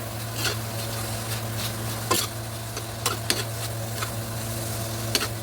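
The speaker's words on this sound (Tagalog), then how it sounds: "halu-haluin lang natin" Spoon scraping and stirring a peppered, seasoned filling in a hot pan over a steady sizzle, with sharp utensil clicks against the metal scattered through, no voices.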